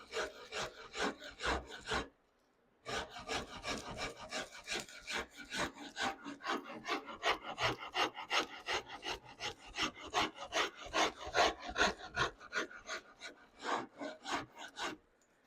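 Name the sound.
rasp filing a wooden guitar neck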